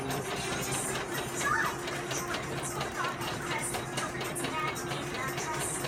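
Embroidery machines stitching superfine cotton batiste, a continuous busy mechanical clatter with rapid rhythmic needle ticking, loud and close, with faint voices in the background.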